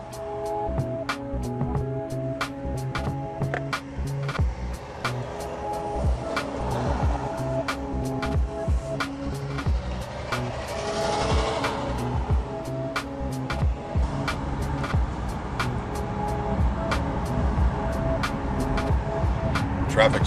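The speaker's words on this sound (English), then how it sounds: "Traffic still coming in." Road traffic streams past at a spring-break holiday area, a steady moderate wash of passing cars and heavier vehicles with repeated sharp ticking clicks over it.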